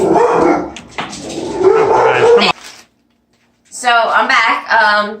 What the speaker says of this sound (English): my dogs were barking and went nuts